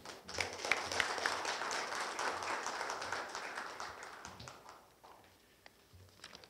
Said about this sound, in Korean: 큰 박수로 심형진 교수님을 모시겠습니다.